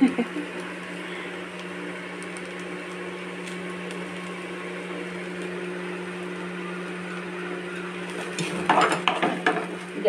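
Whole spices, cinnamon, cloves and a cracked cardamom, fry in a pan over a very low gas flame for sabudana pulao, giving a steady soft sizzle throughout, with a few louder clinks and scrapes of stirring near the end.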